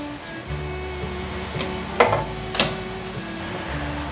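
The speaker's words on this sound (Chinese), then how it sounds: "煎的时候不定时的翻过来看看是不是都焦黄色了" Potato and nori rolls sizzle as they pan-fry in oil, a steady close crackle broken by a couple of sharp clinks and scrapes of turning in the pan.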